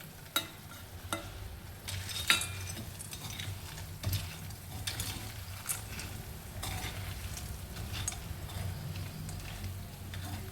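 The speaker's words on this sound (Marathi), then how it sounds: "मिक्स झाल्यानंतर यामध्ये आपण वड्या आणि वांगे जी तळलेली होती ती टाकायची." Fried vadi and eggplant pieces are stirred into masala in a pan, soft sizzling under faint scraping and occasional spoon clicks against the pan, close and quiet.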